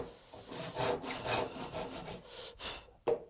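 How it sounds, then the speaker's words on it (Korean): A hand saw cuts through wood at a 45-degree angle for a hidden dovetail joint, giving steady rasping back-and-forth strokes, close and fairly loud, with no talking. "45도로만 톱질을 해주면 됩니다."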